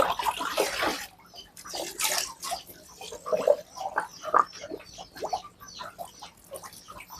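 Water is poured and gurgles into a modified 1-inch or 2-inch water pump to prime it, filling it to the top. The splashing and bubbling come in irregular close bursts and are fairly quiet.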